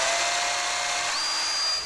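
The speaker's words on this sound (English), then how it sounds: "you just need to drill right through the masking tape into the tile." A power drill grinds steadily through glazed tile covered in masking tape, a loud continuous high whine with a pitch that rises partway through, close up with no talk.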